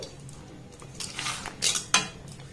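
A utensil stirs moong kalia in a metal pan, giving scattered scrapes and a few sharp clinks that grow louder toward the end, close and without talk.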